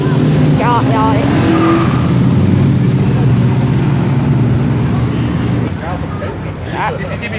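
Loud, continuous engine rumble from cars at a street car show, with revving swells and crowd noise throughout, while people talk over it.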